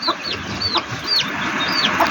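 Parrot-beak fantail chickens on a Madurai farm cluck in short, repeated calls with a bird chirping in between, close and steady against outdoor ambience and no talk.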